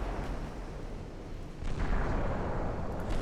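Heavy naval gunfire from battleship main batteries in a 1904-era naval warfare game, a dense continuous roar of booming shots that swells louder midway and stays loud to the end.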